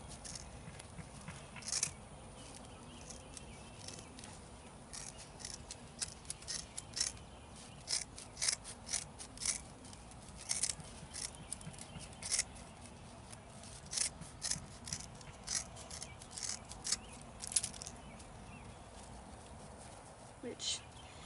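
Wire being cut with cutters for a wire dog planter, giving a run of short sharp snips and clicks at an irregular rhythm, close and fairly quiet. Handling noise sits beneath the cuts.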